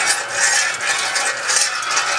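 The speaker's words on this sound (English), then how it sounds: "In trial runs, it crushes a can about every second." A homemade industrial-strength can crusher at work, a continuous loud clattering and ratcheting mechanical racket with dense metallic rattle and no voices.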